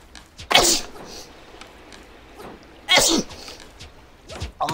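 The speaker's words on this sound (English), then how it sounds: "Oh my god, I sneezed." A person sneezes twice, each a sharp, close burst with short quiet gaps between.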